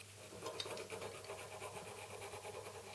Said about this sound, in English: I'm just taking off the roughest parts with a file